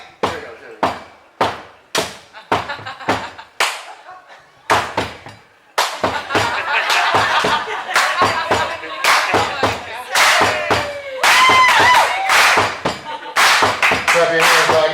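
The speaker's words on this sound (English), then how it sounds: "Clap your hands like that." A crowd at a memorial gathering claps along to a song in a steady, rhythmic beat, sharp hand claps at first spaced and distinct, then thickening into louder group clapping with voices and music underneath.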